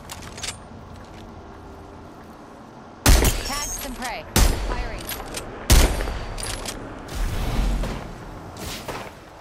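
Gunfire from the game Apex Legends erupts in four loud, rapid bursts after a quiet opening, each volley a dense automatic clatter with sharp attacks, while players talk over the action.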